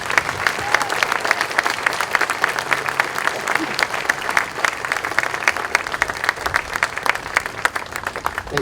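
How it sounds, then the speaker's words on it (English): A crowd at a Memorial Day ceremony applauds loudly and continuously for several seconds, a thick, even wash of many hands clapping close by. "Please give a big round of applause"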